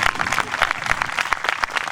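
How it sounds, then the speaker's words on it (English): A crowd at an outdoor peaceful protest rally applauds, a dense patter of many hands clapping quickly and continuously at close range. "yeah, you can clap for that."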